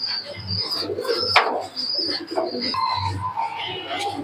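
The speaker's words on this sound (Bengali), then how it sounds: "বন্ধুরা লাল জিরিয়া কবুতর তো দেখেছেন" Red jiriya racing pigeons coo in low rolling murmurs close by, repeated throughout with a sharp clap or flutter of wings partway through and light chirps over the loft's background noise.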